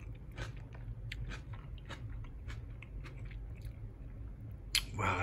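Close, quiet chewing of Miyama brand kimchi from a Japanese market in Yokosuka, with wet crunchy bites in a steady rhythm and a louder crunch near the end, no talking.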